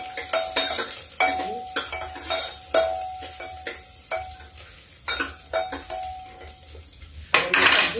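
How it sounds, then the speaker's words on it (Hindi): Mixed vegetables, carrots among them, stirred in a cooking pot, with repeated scraping and clinking strokes of a utensil against the metal and a faint sizzle underneath, close and fairly loud. "सब्जी इसमें मिक्स कर देते हैं"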